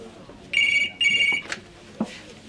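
A telephone rings twice in quick succession, each bright electronic ring lasting about half a second, followed by a few soft knocks in a quiet room.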